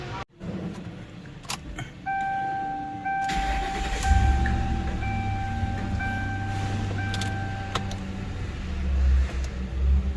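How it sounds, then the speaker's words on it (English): 2009 Ford Crown Victoria police-style sedan with 81k miles and a newly replaced shifter cable: keys jingle, a chime sounds, then the engine starts and runs steadily up close, with no talk. "Let's go drive it."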